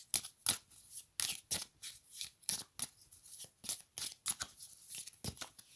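Oracle cards being handled and drawn, with a quiet, close series of papery swishes and snaps in an irregular, fairly quick rhythm of about a dozen strokes.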